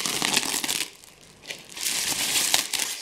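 Tape being cut on a bubble-wrapped Black Forest cuckoo clock package, with crisp crinkling and crackling plastic in two bursts separated by a brief quieter gap, close and fairly loud.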